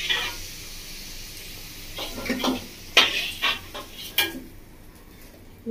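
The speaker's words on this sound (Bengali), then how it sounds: "তেলটা এভাবে খুন্তি দিয়ে একটু জড়িয়ে জড়িয়ে আলুগুলো তুলে নিচ্ছি" Fried potatoes scooped and lifted out of hot oil with a metal spatula in a village-style Bengali kitchen, giving a few scraping clinks against the pan over a soft sizzle.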